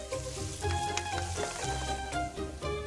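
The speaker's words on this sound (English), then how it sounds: "lower the heat and start to break the sausage into the soffritto" Sausage sizzles in soffritto in a pan over lowered heat, a close steady crackle with bursts of popping as it is broken up, continuous for a few seconds.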